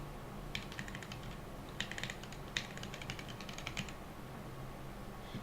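Faint, quick clicks from a computer keyboard come in short bursts of keystrokes, soft and slightly distant, with no talking.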